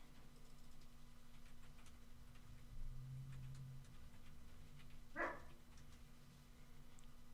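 Dogs bark once at a distance, a short faint burst over steady low background hum and light ticking.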